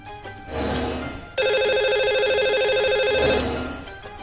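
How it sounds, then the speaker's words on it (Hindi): Telephone ringing as a radio show host dials a lucky caller, a steady electronic ringtone with a bright, rapidly warbling pattern sounding for about two seconds between louder swells of background music. "तो चलिए इन्हें अब हम लगाएंगे कॉल और करते हैं बात।"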